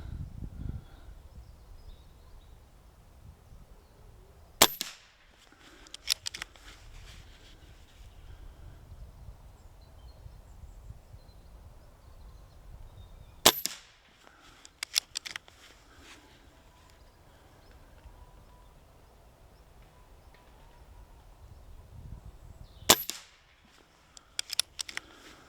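Stoeger XM1 air rifle with a new transfer port fired on an outdoor range: three sharp, loud cracks spaced several seconds apart, each followed by a short clatter of handling, over a quiet outdoor background.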